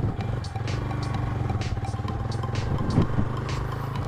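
An off-road vehicle grinds along in first gear at full throttle on a forest trail, the engine droning loudly and steadily with rattling and clatter over rough ground throughout.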